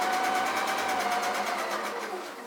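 Sewing machine stitching a quarter-inch seam on fabric, a steady rapid mechanical whir with a fast needle pulse, close by, slowing slightly at the end.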